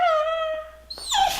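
A pet dog whimpers in a long, high, steady whine indoors, then breaks into a louder rising yelp near the end, close and alone without talk.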